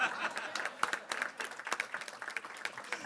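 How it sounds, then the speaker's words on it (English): Scattered clapping from a church congregation at a Prince George's County gathering, individual claps standing out over an uneven, moderately loud round of applause. "Don't stop clapping."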